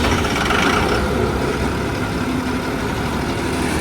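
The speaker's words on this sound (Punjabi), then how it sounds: "ਇਹਨੂੰ ਸਟਾਰਟ ਕਰਕੇ ਸੁਣਾਓ ਮੜ ਜੀ ਆਵਾਜ਼ ਸੁਣਾ" Loud, steady rumble of a large combine harvester engine idling nearby, constant and unbroken with no talk.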